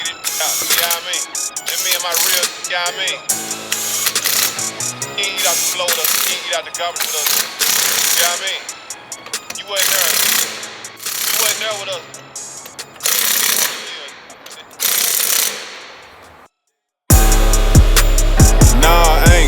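Power tools and wrenches work on a Volvo's wheels, giving loud, close rattling impact bursts and ratcheting clicks in short repeated runs, with people talking between them.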